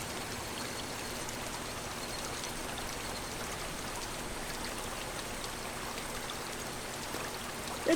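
Water ambience in the visual novel Higurashi When They Cry, a steady, faint rushing flow like a stream or light rain that continues evenly without pause and without talking.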